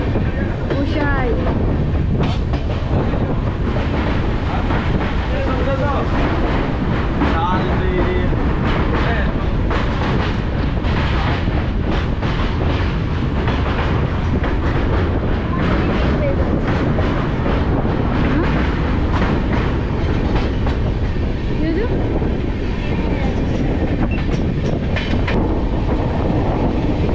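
The Kanchan Kanya Express runs steadily on its tracks between Kolkata and the Dooars, a loud continuous rumble with rattling carriages and faint clickety-clack throughout, heard from on board.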